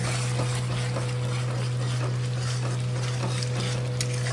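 Masala for mushroom curry sautéing in a pan, a faint sizzle and light stirring under a steady low hum throughout, close and even, no talking.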